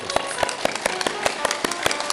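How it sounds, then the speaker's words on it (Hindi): Loud, rhythmic hand clapping done as an acupressure exercise for back pain, sharp claps landing roughly five times a second in a steady beat against a faint background hum. "और कुछ नहीं तो ऐसे जोर से ताली बजाना"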